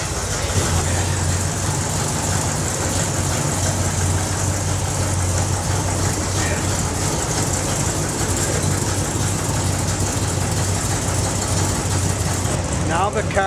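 A Chevrolet Corvette engine idles steadily in a dyno shop after an ignition control system upgrade, a constant low rumble running the whole time with no clear speech.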